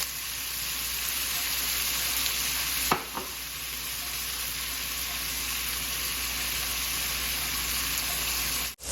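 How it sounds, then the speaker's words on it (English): Onions hit about a tablespoon and a half of hot bacon fat in a pot and sizzle steadily, with a loud stir and scrape partway through and the frying hiss continuing close and constant. "Gonna add in our onions."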